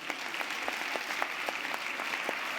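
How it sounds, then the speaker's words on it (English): Lecture-hall audience at a skeptics' event in Helsinki applauding a stage demonstration, with full, even clapping from a sizable crowd and a few sharper claps standing out near the front. "How about a big round of applause for the rope?"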